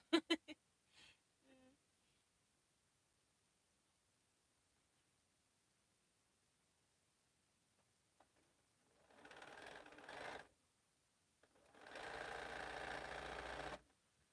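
Quilt pieces are fed through a sewing machine in two separate bursts of steady, fairly quiet mechanical stitching, with a few faint handling clicks and long near-silent gaps between them.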